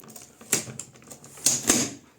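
A suitcase latch mechanism clicks open and snaps shut, giving a few sharp, close mechanical clicks spaced apart with quiet handling noise between them.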